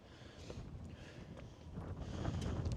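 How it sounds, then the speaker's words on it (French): Gusty wind buffeting the microphone outdoors at a botanical garden overlooking the port in Roscoff, a rumbling low roar that swells toward the end, with faint rustling. "il y a du vent"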